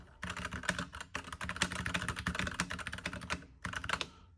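Rapid, continuous clacking of keys on a Keychron V8 mechanical keyboard with linear switches, dense and even, with a brief pause before the typing resumes.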